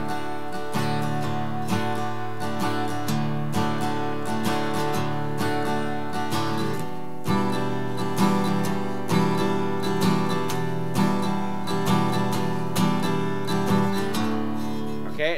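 Steel-string acoustic guitar strums the verse pattern of a song in a straight, even rhythm, with ringing chords and crisp repeated strokes, played close and alone without talk.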